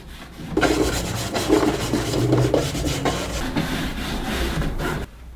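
Dark wax being wiped off chalk-painted wood with a cloth: a steady, close scratchy rubbing that continues for about five seconds, with no talk.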